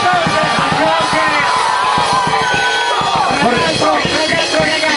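A lively crowd at a live comedy-music show at Chiosco Sardo in Iglesias cheers, whoops and yells loudly and continuously, with rhythmic clapping throughout.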